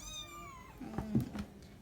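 Young stray kittens about three weeks old give a thin, high meow, then a few short, overlapping mews close by, with no one speaking.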